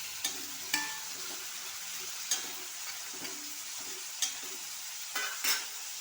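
Crab curry with tomatoes frying in a pan, a steady soft sizzle broken by several brief scraping stirs spread through the clip; no voices.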